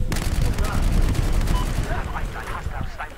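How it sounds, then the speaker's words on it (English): Battlefield 4 gunfire in a large Conquest battle: a dense, loud burst of rapid automatic shots crackles for about two seconds, then tails off into scattered distant reports beneath a player's voice. "Oh, shooting."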